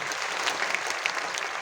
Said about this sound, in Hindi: मैं चाहूंगा इन लोग के लिए एक जोरदार ताली होनी चाहिए दोस्तों